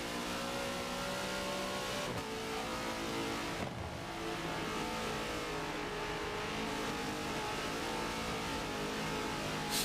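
Racing car engines roar around Circuit Spa-Francorchamps during a 24-hour endurance race event in a racing game, a steady loud engine drone with shifting revs and a couple of brief gear changes, continuous throughout.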